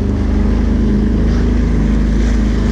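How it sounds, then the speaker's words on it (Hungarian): Motorboat engine out on the ocean, a steady, loud, close droning hum with a low rumble that holds without pause, mixed with wind noise. "ez a hajó merre jön?"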